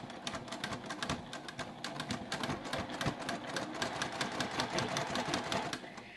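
A home sewing machine stitching fabric for Christmas sewing projects: a rapid, steady mechanical rattle of needle strokes, close and continuous, briefly uneven at the start and easing off at the end.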